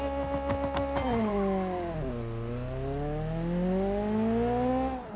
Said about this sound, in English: I did not like that I revved the engine out the gate